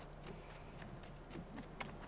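Horse hooves clip-clop at a steady gait in Assassin's Creed II, faint and close over a low, busy ambient bed with no talk.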